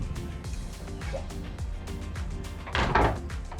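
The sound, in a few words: heavy-duty door closing on Sea Ray Sundancer 370 boat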